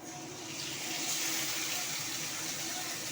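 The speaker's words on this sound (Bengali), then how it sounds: "একটু জল দিতে হবে জল দিয়ে" Water poured into fried spice paste of cumin, salt, turmeric, ginger, tomato, chili and garlic for a katla fish curry, a steady close splashing rush lasting a few seconds.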